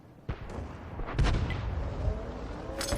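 Heavy tank cannon shots in a World War II tank video game, the GW Tiger (P) artillery vehicle firing: a sharp report followed by a deeper booming blast and rumbling tail, fairly distant and muffled amid steady engine and battle noise.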